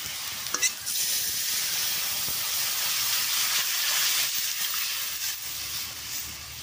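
Dal frying in a pan makes a steady, close, hissing sizzle with light stirring scrapes, holding fairly loud and even throughout.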